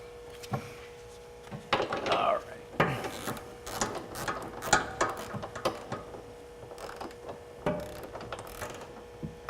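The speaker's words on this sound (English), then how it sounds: "Directions say torque it down to 50 foot-pounds." Ratchet clicks from a torque wrench tightening trailer hitch bolts to 50 foot-pounds on a 2009 Honda CR-V in a shop. The clicks come in short bursts and sharp knocks against a faint steady hum, close and fairly quiet.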